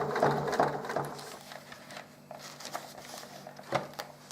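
A sewing machine stitches Velcro onto a fabric Nerf drop leg holster, a fast rattling run that eases off and then resumes in short patches, fairly close and steady.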